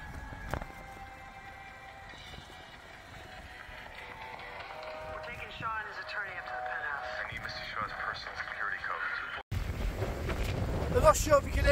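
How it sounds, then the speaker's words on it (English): Wind gusting against a small Helm Compact 1 tent at a wild camp, a rough buffeting rush that builds and then cuts to louder close blasts on the microphone, with a person speaking quietly. "the wind's blasting through now"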